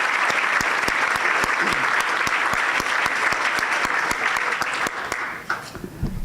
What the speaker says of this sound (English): Please give our sponsors a big round of applause.